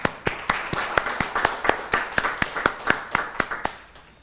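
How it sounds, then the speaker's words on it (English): Audience applause for panelists at a Berkeley College Women's Entrepreneurship Week 2022 event: steady, evenly spaced claps, fairly sparse and close, continuing for a few seconds. "Let's give them a round of applause."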